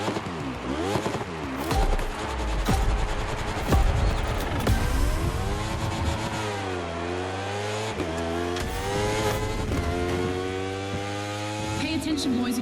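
A Ferrari 488 GT3 race car screams through repeated up and down revs in The Crew Motorfest, its loud engine rising and falling through gear changes, with a voice speaking briefly over it.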